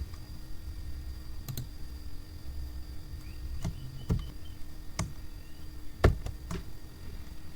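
Computer keyboard keys pressed, including Ctrl and Enter, as sparse, separate clicks spaced a second or more apart over a steady low hum, close and fairly quiet with no speech.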